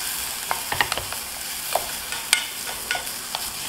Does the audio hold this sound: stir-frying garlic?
yes